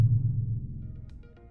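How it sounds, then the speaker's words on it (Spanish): A reconstructed low-frequency Tyrannosaurus rex call rumbles alone as a deep, throbbing drone that slowly fades, with faint higher clicks near the end. "este es el sonido de baja frecuencia que emitían los tiranosaurios Rex."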